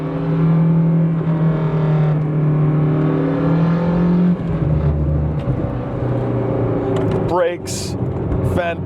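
A Lancia Hyena Zagato hatchback on the move, engine droning steadily then easing off into exhaust overrun with crackles and a brief rising whine near the end, loud and close under a speaking voice.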